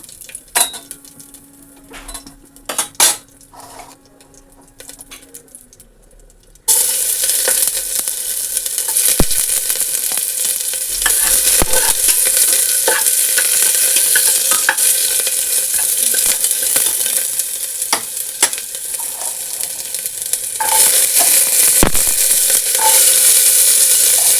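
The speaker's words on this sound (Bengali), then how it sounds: "তো এই যে ডালিয়ার জন্য জিরা আর শুকনো লঙ্কা নিয়েছি এই দুটো দেব ফোড়ন" Cumin seeds and dried red chilies tempering in hot oil for a dal-style dish, a loud continuous sizzle that bursts in suddenly after quieter clinks of utensils and pans, with occasional scraping stirs.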